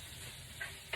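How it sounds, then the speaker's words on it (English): Onions frying in a pan are stirred, giving a brief, soft sizzle with two light scrapes of a utensil. "Give everything a stir."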